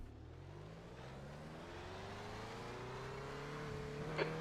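A race car engine in the Skip Barber racing video game holds a steady drone that slowly climbs in pitch under acceleration, fairly quiet and alone.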